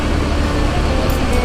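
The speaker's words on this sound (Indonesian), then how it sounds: "Bis ini memakai sasis Mercedes-Benz OH 1526, karoseri dari Laksana." A Sembodo bus on a Mercedes-Benz OH 1526 chassis with Laksana bodywork pulls out of Kampung Rambutan terminal, giving a steady, broad engine rumble mixed with surrounding traffic noise.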